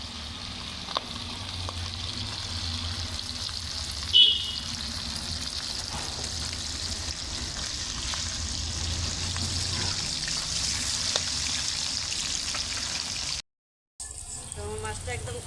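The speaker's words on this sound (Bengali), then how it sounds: "মাছটা একদম কড়া করে ভেজে নিয়েছি" Silver carp fish frying crisp in a pan of hot oil, a steady close sizzle with crackling and occasional sharper pops and stirring knocks, running continuously before a brief dropout near the end.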